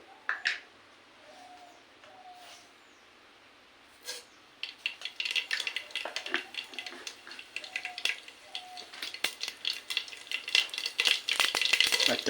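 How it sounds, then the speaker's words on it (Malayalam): Quiet start with a few soft chirps, then a burst of irregular crackling and popping that grows denser and louder as mustard seeds fry in hot oil in a pan. "അതിലേക്ക് ഒരു സ്പൂൺ കടുക്"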